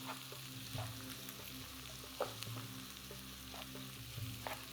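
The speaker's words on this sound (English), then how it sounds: "Stir to combine." Turkey pieces being stirred in a hot pan, with a steady sizzle of frying and occasional scraping stirs, close and moderately quiet.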